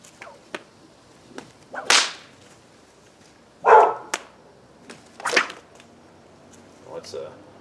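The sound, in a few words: Indiana Jones bullwhip cracking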